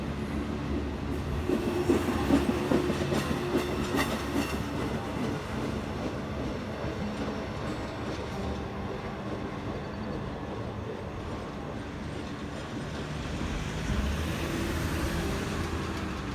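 Pennsylvania Railroad train rumbling out of the Gallitzin tunnels near the Allegheny Tunnel, a steady loud roar of wheels and cars with faint squeals, swelling again near the end.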